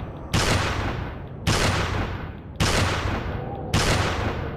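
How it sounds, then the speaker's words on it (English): Fully upgraded hand cannon from Resident Evil 4 firing four heavy, booming shots at roughly one-second intervals, each loud blast trailing off into a long echoing decay, with no talk. "We upgrade fully the hand cannon. Now it's infinite ammo"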